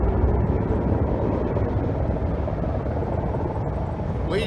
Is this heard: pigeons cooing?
no